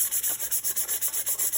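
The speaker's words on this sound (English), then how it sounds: "so you can see what it's like when you use a piece of sandpaper" A sandpaper block is rubbed back and forth over a tumbler in quick, steady strokes, about nine gritty passes in under two seconds. The scratching is close and clear, with no voices.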